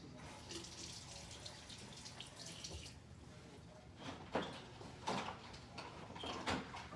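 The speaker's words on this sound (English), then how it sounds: "I'm just gonna rinse it off real quick." A hand is rinsed under a running kitchen tap, with a steady close stream of water splashing and gurgling into the sink and shifting as the hand moves through it.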